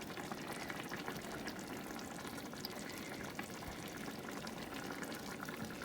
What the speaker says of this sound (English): we're letting them just kind of poach in that liquid